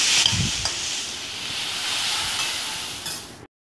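Cauliflower, carrot and beans frying lightly in oil, a loud continuous hiss of sizzle close by with a brief low stir near the start, cutting off abruptly.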